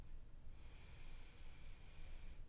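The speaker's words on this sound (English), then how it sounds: "Take a long breath in through your nose" A long, soft breath drawn in through the nose during a front body opening yoga flow, heard as a steady airy hiss that rises after a brief sniff and holds quietly for a couple of seconds.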